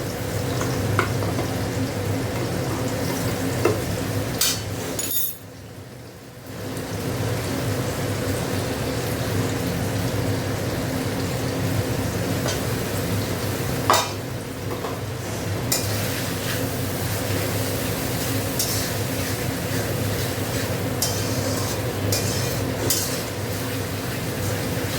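Ginger garlic paste sizzles in a hot pan for chicken curry, a steady frying hiss with occasional clinks of a spoon against the pan and a brief lull midway.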